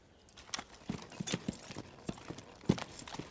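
A young stallion's hooves clip-clop in a corral, a loose run of distinct knocks with one sharp louder strike near the end over a quiet background.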